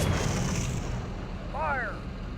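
Tank cannon fire in the Steel Beasts Pro simulator during an armored attack, a deep distant-sounding boom with rumbling tail under steady engine drone, moderately quiet, with a voice speaking briefly over it.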